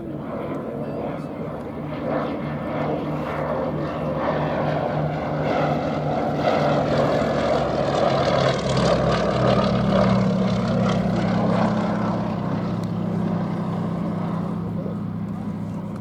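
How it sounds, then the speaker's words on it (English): Westland Lysander propeller aircraft flying past at an air show, a steady droning engine and airscrew hum held throughout with a rising tone midway, while a commentator talks over it. "And now it is the Westland Lysander that we see, an aircraft that was developed for the Army cooperation role to replace the Hawker Hector."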